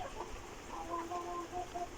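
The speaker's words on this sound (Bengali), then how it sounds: "টাইগার মুরগি" Soft, faint clucking from Tiger chickens, a few short calls over a steady background hiss.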